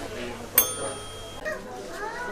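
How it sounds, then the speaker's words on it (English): A skull-shaped bicycle bell gives one bright ding that rings on and fades, heard close and briefly, with a person talking around it. "This is a skull bike bell."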